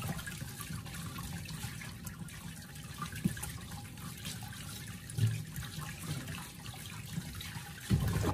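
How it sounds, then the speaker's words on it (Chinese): Tap water runs steadily over a peeled luffa gourd being rinsed by hand, a continuous close splashing wash with a couple of brief louder bumps near the end. "接下来用流动的自来水将它清洗一下。"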